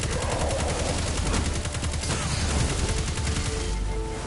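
Sustained rapid automatic gunfire from Destiny 2 on PS4, a dense rattling stream of shots firing continuously and loudly throughout with no pause, joined by faint game tones near the end.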